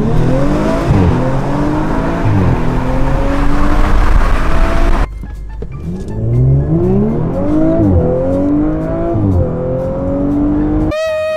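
Fast sports car engine revving and accelerating hard, loud and close, with rising gear-change sweeps and a brief tire squeal near the end.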